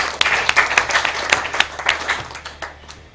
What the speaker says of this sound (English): please let's have a round of applause for ourselves for the wonderful job